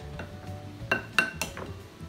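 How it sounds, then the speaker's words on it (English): A spoon stirs seasoned raw meat in a bowl, giving a few light, scattered clinks against the bowl over a quiet background. "I'm just gonna giving this a rough stir because the seasoning really gets in when we're cooking it"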